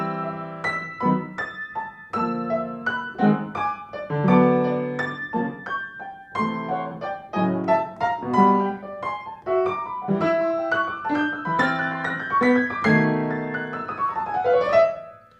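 Solo piano plays a slow, deliberate passage from a piano arrangement of a song, rich chords and melody notes sounding clearly and steadily for the whole stretch without talk.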